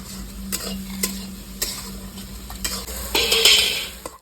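Onions with salt fry in a pan for Kashmiri chicken kanti, a steady sizzle punctuated by sharp spoon taps and stirring scrapes, swelling louder near the end.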